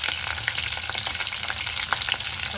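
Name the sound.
green chillies and onions frying in a pot for biryani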